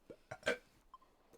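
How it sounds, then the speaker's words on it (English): A person burps in a few short, guttural bursts, close and fairly quiet, with brief pauses between them and no talking. "I'm gonna burp."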